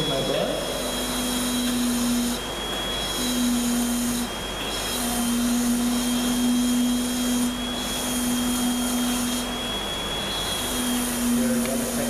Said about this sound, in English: I'm going to sink in my bur.